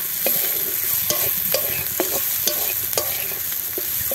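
Egg chowmein fries in a pan with a steady sizzle while a utensil stirs and scrapes it in repeated sharp clacks, roughly every half second, close and fairly loud with no talk.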